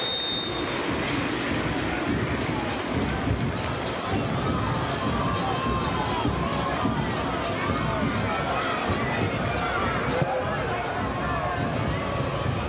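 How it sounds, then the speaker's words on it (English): A big football crowd at the Mas Monumental during the Argentina–Brazil World Cup qualifier, a steady broad roar of applause and ovation with whistles and shouts, continuous and fairly loud throughout. "Cuti and Romero getting the ovation now from the crowd at the Mas Monumental."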